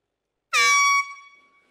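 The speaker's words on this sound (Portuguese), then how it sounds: "Eu vou soltar a buzina o dia inteiro com vocês" One loud, close air horn blast sounds for about half a second, then its tone fades out quickly, at a conference talk.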